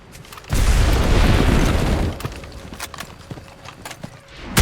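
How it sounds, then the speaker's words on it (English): An enemy target blows up in the war game Enlisted, set on a Tunisian farm: a loud, rumbling blast runs for about a second and a half, then fades into scattered distant pops and clatter, with a sharp hit at the very end. "We've blown up the enemy target."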